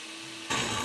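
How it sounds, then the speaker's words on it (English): A blender running on high with its jar half full of warm water and a squirt of soap, a quiet hum that suddenly surges into a loud, dense whir halfway through and keeps going. "So we have the blender jar filled with warm water about halfway, one squirt of soap, press on,"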